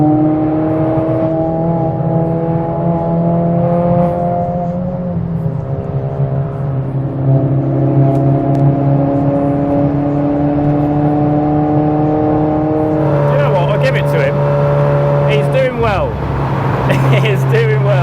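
MK7 Golf R lapping the Nurburgring, a steady in-cabin engine drone with gear-change steps in pitch and rising revs, under continuous talk from occupants.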